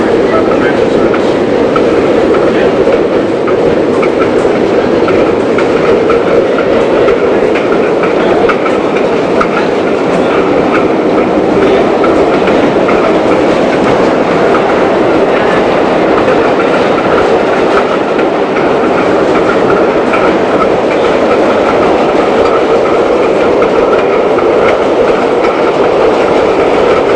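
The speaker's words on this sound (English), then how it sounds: "Train going across." A New York City subway train of the 1970s to 1990s crossing on the tracks makes a loud, steady roar and rumble with continuous wheel clatter, close by, throughout the whole stretch.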